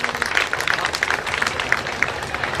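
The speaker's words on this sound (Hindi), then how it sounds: "एक बार जोरदार तालियों से हम उनका वेलकम करना चाहेंगे" An audience applauds to welcome the moderator of a health panel discussion, dense close clapping from many hands with irregular sharp claps standing out, lasting the whole stretch.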